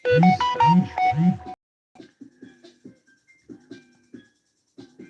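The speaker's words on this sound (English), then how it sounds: "I got a notification." Phone notification chime: three bright, loud tonal beeps in quick succession, followed by quieter clicks and soft sounds after the alert ends.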